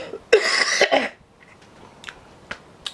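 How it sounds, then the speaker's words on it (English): A short burst of coughing from one person up close, a couple of harsh hacks in the first second, followed by a few faint clicks and small sounds in a quiet room. "I do apologise that it was really quick and I started coughing."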